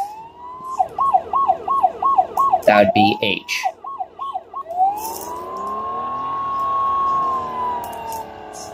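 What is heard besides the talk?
police siren in video game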